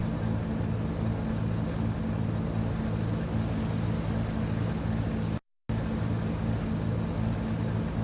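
Boat on choppy waves in the video game GTA III, a steady droning engine hum with a constant low rumble and wash, running evenly throughout apart from a brief dropout.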